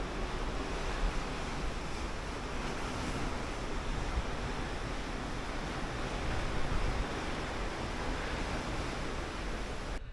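Ocean waves rush past the cruise ship MSC Divina in a constant broadband wash of surf and wind noise, steady and fairly loud from start to finish.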